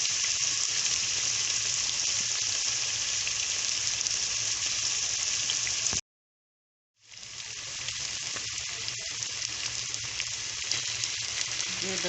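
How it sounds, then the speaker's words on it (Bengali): Chopped potatoes hit hot oil in a hilsa fish egg curry, giving a loud, steady sizzle that cuts out for about a second, then resumes with the same close, continuous frying hiss. "আলু কুচি দিয়ে দিব।"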